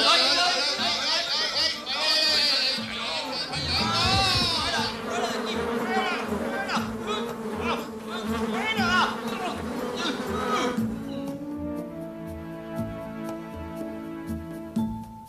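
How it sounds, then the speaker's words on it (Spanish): Cartoon flies buzz in a swarm, a busy whining drone with chattering voices over it, before the buzzing fades out and music takes over near the end. "Las moscas volaban por todas partes."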